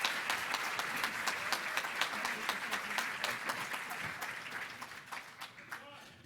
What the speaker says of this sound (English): Let's give a round of applause to our 2019 Volunteer of the Year, John Silva.